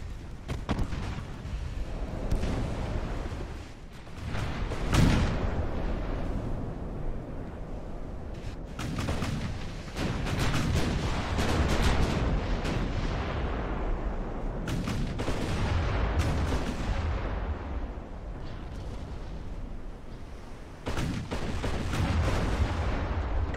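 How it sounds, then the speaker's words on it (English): Naval artillery from battleships and armored cruisers in the Ultimate Admiral: Dreadnoughts game set at the 1915 Battle of Dogger Bank, repeated heavy booming salvos with rolling rumbles in between, loud and continuous. "Let me get the Wurttemberg to start firing on this armored cruiser."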